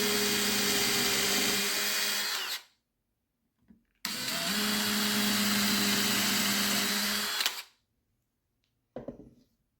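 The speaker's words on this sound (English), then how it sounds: "I'm going to take a 3/32 drill bit and pre-drill the holes for these screws, making sure that I don't go all the way through the board" An electric drill fitted with a 3/32 bit pre-drills screw holes in a board, running in two loud steady whirring bursts of a few seconds each, with a brief quiet gap and a short final spurt.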